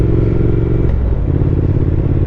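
Triumph Speed Twin motorcycle fitted with a decat X-pipe exhaust, idling and blipping close by with a loud, steady rumbling burble and a throttle change around the one-second mark.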